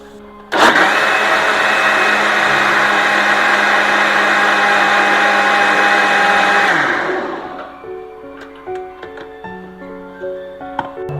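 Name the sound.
mixer grinder spinning to churn curd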